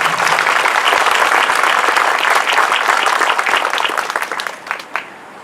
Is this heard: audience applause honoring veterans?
yes